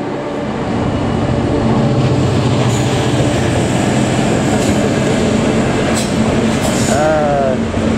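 A train, probably a freight train, rolls steadily past at Willesden Junction, loud and close, with a constant rumble and faint wheel squeal near the end.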